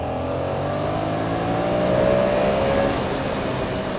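Steady engine drone of a Yamaha FZ07 motorcycle while riding, with wind rush and a smooth, continuous note that climbs slightly before settling, close and fairly quiet.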